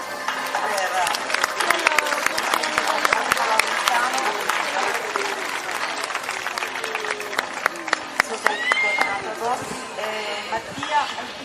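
Crowd applause at a horse show in Oristano, Sardinia, a long dense clapping rising and falling with sharp individual claps, along with voices calling and talking in the crowd.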